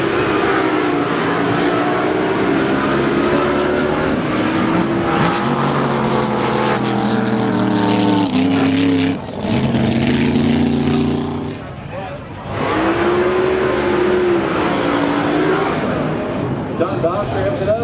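A nitro drag boat at a Red Bluff drag race roars loudly and steadily, its engine note rising and dipping briefly as it is throttled, while a race announcer talks over it.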